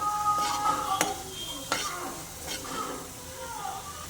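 Spices of half a spoon turmeric, coriander powder and garam masala stirred into okra masala curry in a pan, a soft scraping stir with light sizzling and a few sharp utensil clinks against the pan, close and steady throughout.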